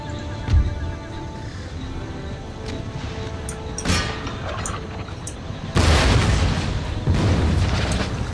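Cannon and artillery fire in the Empire Total War battle game: scattered booms and sharp reports over a steady battlefield rumble, then a heavier louder barrage near the end.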